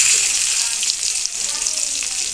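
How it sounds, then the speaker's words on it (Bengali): Vegetable stems land in a fried tempering for a Bengali mixed-vegetable fish curry and set off a loud, hissing sizzle. The spitting noise runs briefly and steadily on its own. "এর মধ্যে এবার ডাঁটাগুলো দিয়ে দেবো।"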